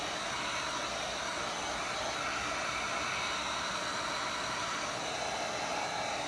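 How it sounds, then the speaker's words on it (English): Heat gun blowing hot air onto a wood board coated with torch paste, a steady, even rushing hiss that stays constant and close throughout with no pauses. "Keep your heat gun away, your nozzle away from your board, enough so that it gets the heat"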